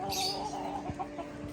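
Soft clucking from a chicken, a few short clucks over a low steady hum, fairly faint and close.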